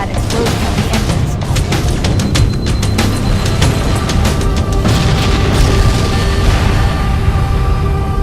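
Fusion reactor explosion aboard a ship in a Halo game, a dense, loud rumbling boom with crackling bursts and debris sustained throughout, alone with no talk.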